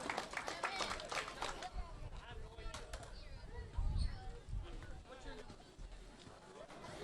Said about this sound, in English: So please give Anthony a big round of applause